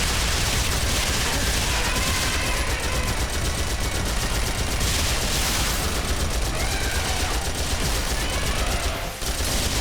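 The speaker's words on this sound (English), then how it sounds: "Who doesn't like just unloading a full clip of machine gun ammo into something, right?" A turret machine gun in Phantasy Star Online 2 fires a loud, unbroken stream of rapid shots for about ten seconds, with dense explosive game combat noise underneath.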